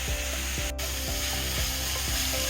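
Onion, garlic and ginger frying for chicken dum biryani, a steady sizzle under quick, repeated scraping strokes of a stirring spoon, close and without speech.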